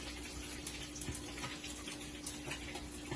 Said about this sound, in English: I wash everything before I cut up my stuff. I make sure I wash them.